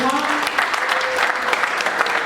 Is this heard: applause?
yes